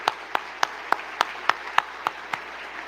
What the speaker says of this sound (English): So I think we can applaud now.